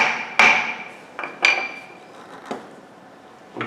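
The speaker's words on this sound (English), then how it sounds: "Should put that hammer on top." A hammer is set down on top of something while decorated boxes are being made, giving a few sharp, ringing knocks spaced about a second apart, fading quickly in a quiet room.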